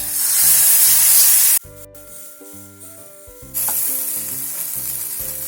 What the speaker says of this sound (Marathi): तव्यावर थोडंसं तेल लावून घ्यायचंय आणि तवा चांगला गरम करून घ्यायचा आहे।